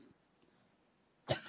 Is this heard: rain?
no